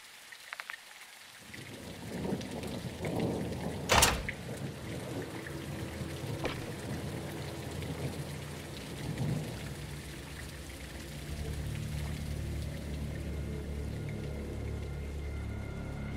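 Heavy rain pours steadily in Call of Duty: Modern Warfare 2, a dense hiss of drops on surfaces with a sharp crack near the start, then the downpour thickens and swells louder toward the end.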